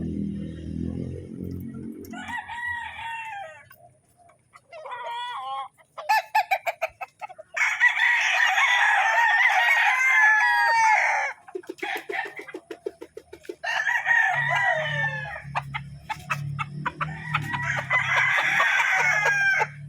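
Gilmore gamefowl roosters, including a bullstag, crow loudly and repeatedly nearby, with rising and falling calls broken by bursts of clucking and short pauses.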